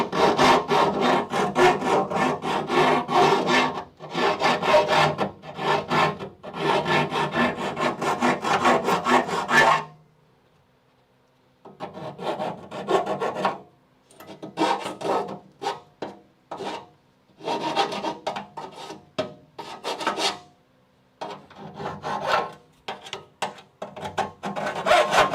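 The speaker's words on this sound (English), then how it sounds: "So I'm just going to get a hand file right here" A hand file works burrs off a rear car frame rail on a Charger crew cab, giving loud, close, rhythmic rasping strokes in bursts, with short pauses between sets.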